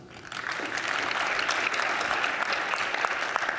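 A conference audience at OSCON 2012 breaks into applause, the clapping swelling quickly and continuing steadily as a dense, crowded patter.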